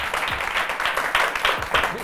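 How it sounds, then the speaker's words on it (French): Studio audience on a TV music show applauding a guest, a burst of clapping with a voice briefly speaking over it. "Biz est là, applaudissez pour lui."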